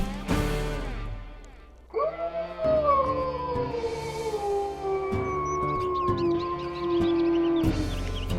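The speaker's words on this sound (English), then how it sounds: "Here's his howl." A wolf in the WolfQuest video game lets out a long, clear howl that rises and then slowly falls in pitch, sustained for several seconds with a second voice briefly joining near the end; loud and alone.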